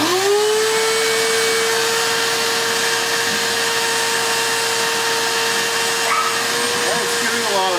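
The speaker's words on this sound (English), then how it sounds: "Alright, so I'm going to turn on the vacuum." A vacuum cleaner sucks lint through a dryer vent vacuum hose, whirring with a steady high-pitched motor hum, loud and close, with a faint rattle near the end.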